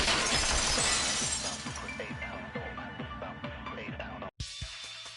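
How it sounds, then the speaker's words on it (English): Glass shatters loudly in a video game, a dense crash of breaking panes followed by scattered tinkling shards that fade out before a brief silence and a faint resumption of background sound. "At the entrance hall, the girls heard the sound of the window shattering."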